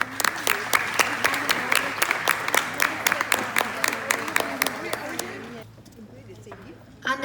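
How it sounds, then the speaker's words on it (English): Audience at a women's club 50th anniversary celebration applauds past club presidents, with loud, distinct claps and murmuring voices for about five seconds before the clapping fades out to near-quiet room tone. "let's have one more round of applause for these past presidents."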